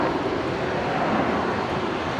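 A Nauru Airlines Boeing 737-300 arriving at Brisbane airport gives a steady, broad jet roar, continuous and fairly loud with no talk over it.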